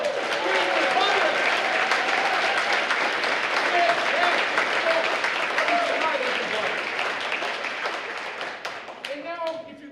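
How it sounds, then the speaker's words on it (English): An audience at a high school jazz concert breaks into loud, dense, sustained applause that thins out toward the end, while voices and cheers rise from the crowd. "Let's give another round of applause."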